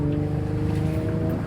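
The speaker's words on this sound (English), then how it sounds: "It's got like a nice Catback exhaust," A 2006 G35S sedan with a 6-speed manual and a loud aftermarket catback exhaust gives a steady, deep droning rumble while driving, heard loud and unbroken from inside the car.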